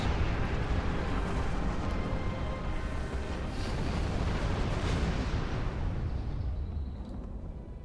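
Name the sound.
cannon fire in a video game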